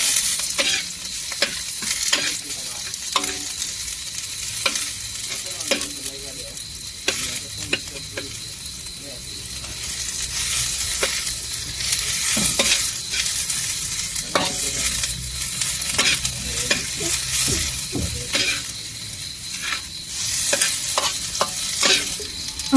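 Hot cooking oil sizzling steadily in a pan while food is stirred, with repeated scraping and clinking strokes of a utensil over the continuous frying hiss, close and moderately loud.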